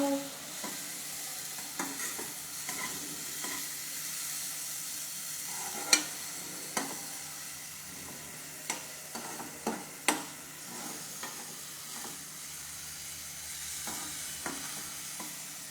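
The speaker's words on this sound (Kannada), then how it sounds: "ಇದೊಂದು ಸ್ವಲ್ಪ ಫ್ರೈ ಆಗಲಿ." Food frying in a pan gives a steady soft sizzle, with occasional sharp taps and scrapes of stirring scattered throughout, fairly quiet and close.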